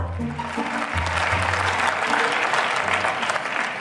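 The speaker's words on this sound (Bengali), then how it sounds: "বক্তব্যের শেষে হাততালি ঝড় বয়ে গেল" Sustained applause from an audience at the close of a speech at a gathering, steady dense clapping that fills the whole stretch with a faint murmur of voices underneath.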